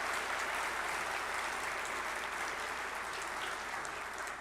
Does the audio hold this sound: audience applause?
yes